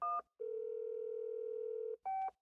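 Phone call in progress: a short tone burst, then a long steady dial-style tone, followed by another brief burst of tones, clear and alone.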